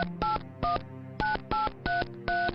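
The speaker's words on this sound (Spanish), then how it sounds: "Marcó el número." A telephone number is dialed from the yellow pages: seven crisp DTMF keypad tones in an uneven rhythm, each a short steady dual-pitched beep, close and clear with no voices.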